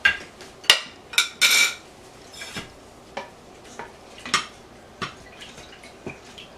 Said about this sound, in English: we have reached a rapid boil, and you'll know that when you are stirring and it does not break the boiling cycle